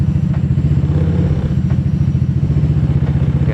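A motorcycle engine with extra lights fitted runs loudly and close by, throbbing in a steady rhythm with slight swells of throttle throughout.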